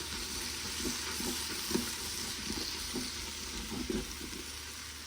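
Ingredients being mixed into a sizzling beef stew, with a steady frying hiss and a series of soft, irregular stirring scrapes and clinks, close and with no voices.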